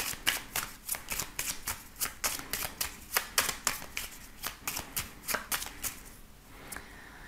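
A 32-card deck is shuffled and cut, with a rapid regular series of crisp riffling card slaps, close and clear, ending with a softer rustle and no talking.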